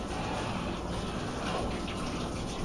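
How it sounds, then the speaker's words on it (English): Running tap water splashes steadily over hands being rinsed in a kitchen while muffins bake, a continuous close broadband gush with no voices. "I'm going to rinse my hands real quick here."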